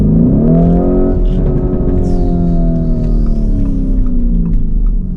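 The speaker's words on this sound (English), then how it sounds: "The bark of that exhaust." Sustained deep exhaust rev from a performance car in a UK garage, a loud steady engine drone with strong low harmonics, held close for about five seconds with no talk.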